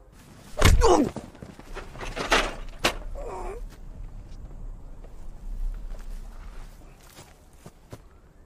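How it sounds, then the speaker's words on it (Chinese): A heavy thud as one person kicks another, loud and close, followed by scuffling footsteps and a few softer knocks and bumps, with no talking during the sounds. "是我踹你，不是教员踹你"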